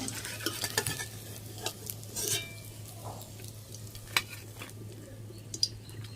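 Ash gourd pocket fry sizzling in a pan at home, a soft steady frying hiss with occasional stirring scrapes and light clinks of utensils, close and fairly quiet, no talking.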